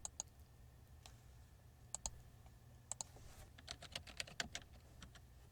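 Light clicks from a computer keyboard as a new keyword is typed into AdWords Editor. A few sparse keystrokes come first, then a quicker run of taps, all soft and close over a faint steady hum.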